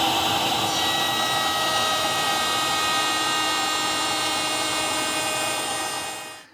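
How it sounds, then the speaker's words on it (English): Router table cutting wood pieces for dovetail joints: a steady, loud high-pitched whine with broadband cutting noise held for about six seconds, then spinning down at the end. "so I can run some pieces through the router table"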